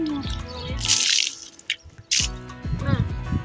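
Water runs and splashes intermittently while a glass is washed by hand at an outdoor sink, with bursts of gushing flow and drips between them.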